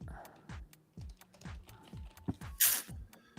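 Someone types on a computer keyboard in steady bursts of crisp clicks and key taps, close and fairly quiet, with one louder clack near the end and no talking.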